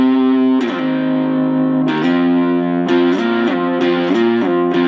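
Cigar box guitar, a Pentacaster Plus, played with a slide through effects, producing sustained distorted tones that jump in stepped pitch leaps like auto-tune, several slides in a row, loud and alone.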